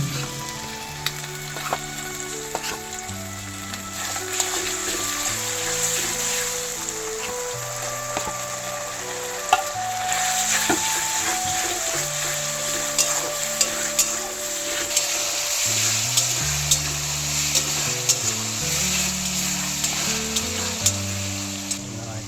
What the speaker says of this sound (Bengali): পেঁয়াজগুলো খুব বেশি ভাজবেন না অর্ধেক ভাজা হলেই বাকি মশলাগুলো দিয়ে দেবেন